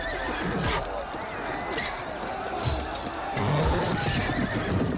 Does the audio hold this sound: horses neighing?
yes